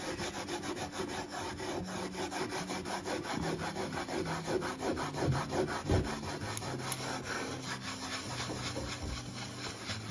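A cloth rubs patina into a wooden coat rack in small circles, a continuous close scratchy swishing with a quick repetitive rhythm and no talking.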